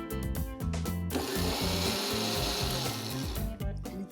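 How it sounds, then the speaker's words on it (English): A kitchen grinder blends oats into a coarse powder in short bursts: loud motorized whirring with stop-start pulses at the beginning and end and a sustained grind in between, with no talking. "I'm going to grind the oats in a coarse powder."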